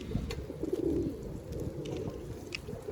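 Macedonian tumbler pigeons coo in low, rolling murmurs that run steadily through the whole stretch, with no talking.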